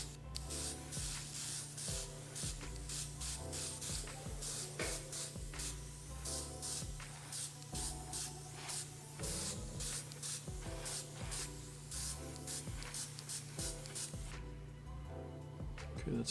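A Mobius airbrush lays down a first coat of paint with a steady, continuous hiss that holds for most of the stretch and then tapers off, close up and fairly quiet.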